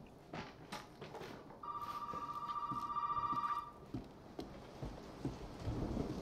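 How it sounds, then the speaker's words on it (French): A telephone rings in the survival horror game Resident Evil 7, a steady electronic tone lasting about two seconds, heard over a background of rain and rumbling thunder. "Pourquoi il y a un téléphone qui sonne?"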